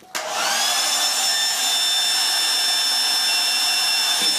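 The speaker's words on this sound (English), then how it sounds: "So now I'm going to hit it with a hairdryer to jack up the temperature and see what happens." A hairdryer switches on abruptly and blows steadily and loudly up close at a temperature sensor, a constant whirring rush with a high whine that holds throughout.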